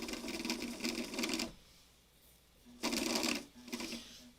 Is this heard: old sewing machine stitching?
yes